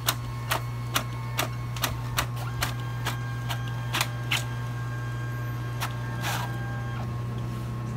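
Brother printer making a photocopy: a steady low mechanical hum overlaid with a regular series of sharp clicks and ticks as paper feeds through, close and fairly quiet, without any voices.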